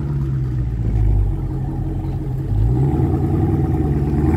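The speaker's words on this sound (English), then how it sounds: "392 Hemi Charger. 5-inch big black tips on the back of this thing with some sick ass aero mufflers." A Dodge Charger 392 Hemi V8 with Arrow aero mufflers and 5-inch black tips rumbles loud and close, its deep exhaust swelling in revs and settling back into a steady throaty burble.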